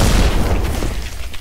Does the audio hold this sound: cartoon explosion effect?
yes